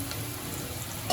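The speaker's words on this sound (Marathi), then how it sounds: "कांदा घातलाय फोडणीला." Chopped onion sizzles in hot ghee tempering in a home kitchen pan, a steady close frying hiss running unbroken with a brief clatter at the end.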